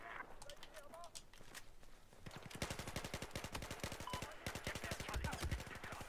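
M416 assault rifle fire in Battlefield 4 set to semi-auto, a rapid run of sharp shots in steady succession under continuous game ambience, with some talk at the start.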